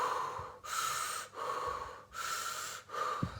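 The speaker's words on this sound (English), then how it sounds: "That's called the blow breath." Forceful blow breath from a breathing exercise, four strong, rushing exhalations in an even rhythm, each cut off by a brief pause, loud and close with no talk.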